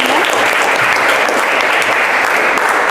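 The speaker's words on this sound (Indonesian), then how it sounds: "Tepuk tangan dulu semuanya." A class of students claps together in a classroom, producing a steady, dense burst of applause that stays loud and close for the whole moment.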